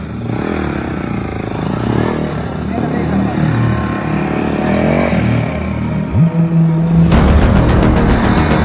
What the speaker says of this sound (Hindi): गाइस अभी हम बाइक स्टार्ट कर रहे हैं।